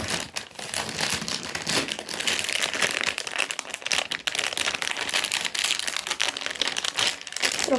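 Continuous crinkling and rustling of a plastic packet being handled and torn open, close up and fairly loud, with sharp crackles throughout.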